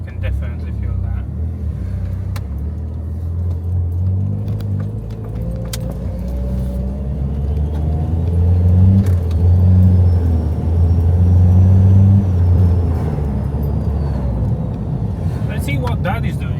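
A Mercedes 190E fitted with a swapped ZF 8HP automatic gearbox drives along, its engine a low steady rumble that rises and falls through gear changes, heard from inside the car with occasional clicks and people talking.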